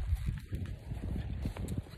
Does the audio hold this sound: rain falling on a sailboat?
no